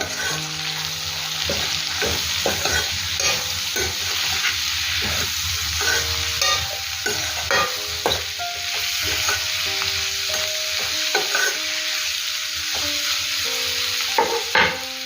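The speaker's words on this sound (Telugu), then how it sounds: "ఇప్పుడు మనము ఉల్లిపాయలు యాడ్ చేసుకుందాం అలాగే కరివేపాకు చిత్త కొట్టుకున్నటువంటి ఒక ఎనిమిది వెల్లుల్లి రెబ్బలు కూడా వేసేసి ఒకసారి బాగా మిక్స్ చేసేసుకుందాము" Chopped onions, curry leaves and eight crushed garlic cloves sizzle steadily in a hot pan while a spoon stirs and scrapes through them, with a continuous frying hiss and repeated close stirring strokes and no talking.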